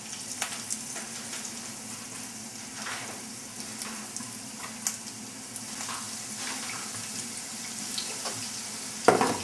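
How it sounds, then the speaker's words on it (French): Meatballs browning in a frying pan, a steady soft sizzle and crackle of frying meat with faint clinks near the end, no talking. "Je vais commencer à mettre mes boulettes. Voilà. Que je vais faire roussir."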